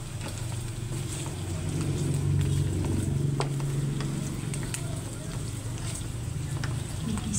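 Pork and aromatics sauté in a pan for adobong kangkong, giving a steady close sizzle with occasional stirring scrapes under a low continuous rumble.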